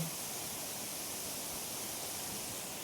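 The Balebare waterfall at Hulikal Ghat roars as a steady, broad rushing wash of falling water, constant and fairly faint, with no voices.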